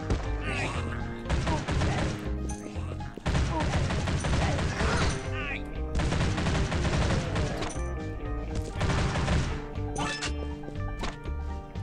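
Automatic rifle fire in the Stickman Zombie mobile game, dense continuous bursts of rapid shots with crashes and impacts layered over game music throughout, loud and nearly unbroken.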